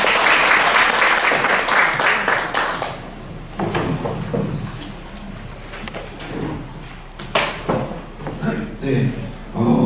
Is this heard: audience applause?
yes